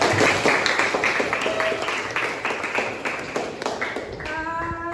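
A group claps steadily in a room, a dense patter of many hands that carries on throughout, with a few voices faintly underneath.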